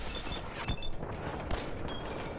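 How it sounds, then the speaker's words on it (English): Machine gun fire in the video game Fallout 4, dense sustained bursts of rapid shots with sharper cracks over a loud continuous battle din, no talking. "someone's got a machine gun"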